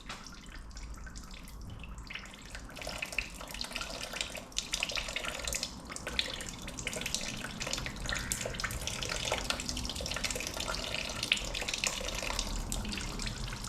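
Hot fluid draining from the drain plug of a Cadillac BLS 2.8 V6 turbo, a steady trickling, splashing stream that runs continuously throughout, close to the microphone with no talking.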